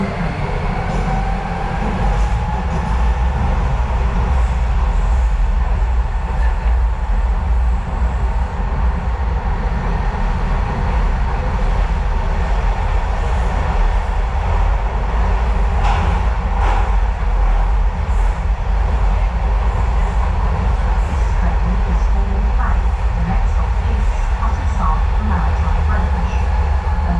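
A London DLR light rail train running, heard from inside as a loud, steady low rumble and roar with faint rattles and squeals, continuous for nearly half a minute.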